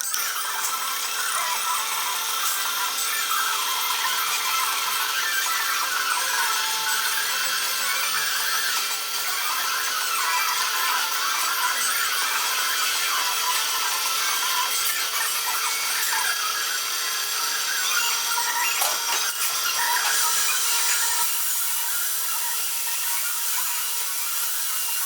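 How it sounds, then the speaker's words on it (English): A fine drill bores a very thin hole through a small metal part for a model wobbler steam engine, producing a steady, continuous high whine with grinding texture for the whole stretch, close and fairly loud. "I'm gonna drill a very thin hole right through there"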